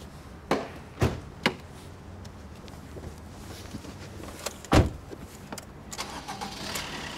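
A car engine turns over and starts, preceded by a few sharp knocks and clunks, with a low rumble underneath; no one speaks.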